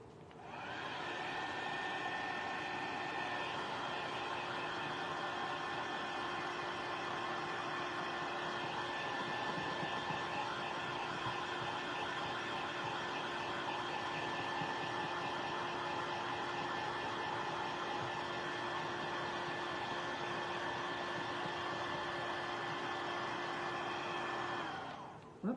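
A hair dryer blows steadily at close range, a continuous whirring hum with a stable motor tone, drying iced Valentine's cookie dabs for about twenty-five seconds before cutting off.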